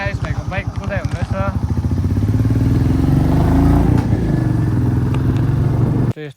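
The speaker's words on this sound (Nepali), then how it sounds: "अब चाहिँ आयुष भाइको बाइक कुदाइ हुँदैछ." Motorcycle ridden by Ayush, engine revving up to a sustained roar and holding steady before cutting off abruptly near the end; a voice speaks briefly over the opening.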